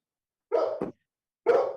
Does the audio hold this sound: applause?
no